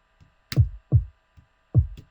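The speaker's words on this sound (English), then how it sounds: "Just a really simple, basic kick." A basic, simple electronic kick drum in a track production hits in short isolated thumps, three strong punchy hits with softer ghost hits between, dry and alone.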